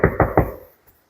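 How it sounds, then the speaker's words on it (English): Three firm knocks on a door during board-and-train place work with a Goldendoodle, loud and evenly spaced, followed by a faint softer tap. "So kind of desensitizing her to that door knock."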